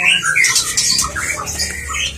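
A bird squawks repeatedly in a loud, harsh burst of calls close by, with a low rumble of background noise underneath and no talking.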